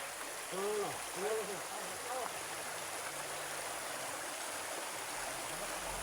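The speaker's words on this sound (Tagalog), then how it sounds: "naglingaw-lingaw na pod biris tubig" Steady rushing water of a flowing stream, a continuous broad hiss close by, with a few brief voiced calls near the start.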